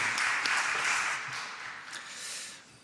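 A church congregation applauds during a Sunday worship service with a roomy wash of clapping that holds steady, then thins slightly before a brief swell at the close.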